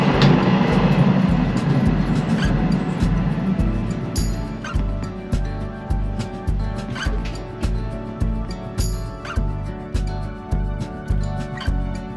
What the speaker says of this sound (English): The sun was setting as the train was nearing Vitebsk.